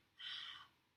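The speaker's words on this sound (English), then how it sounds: "imagine you're going to fog up a mirror" A single open-mouthed breath pushed out as if to fog a mirror, a soft airy exhale of about half a second that swells and fades, heard close and alone in a quiet room.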